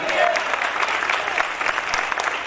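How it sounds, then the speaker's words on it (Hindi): Loud applause fills a Christian worship gathering, a dense steady wash of clapping from a congregation praising Jesus, with faint voices mixed in. "यीशु के लिए जोरदार तालियां होनी चाहिए।"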